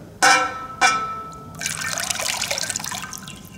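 Water is poured from one hand into the other during a hand-washing ritual: two quick splashes, then a soft steady trickle, close and quiet with no voices.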